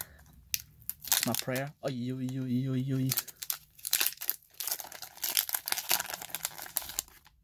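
A Pokémon Burning Shadows booster pack being torn open by hand, close crinkling foil and sharp tearing bursts, followed by rustling as the cards are handled, with someone talking excitedly over and between the sounds.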